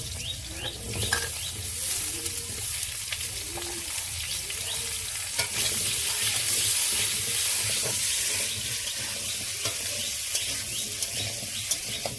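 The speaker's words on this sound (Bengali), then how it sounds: "বন্ধুরা মাছ ভাজার তেলেতে আলুটা ভেজে নেবো" Potatoes fry in oil left over from frying pomfret fish, giving a continuous close sizzle with scraping stirring strokes that runs steadily for about twelve seconds without talk.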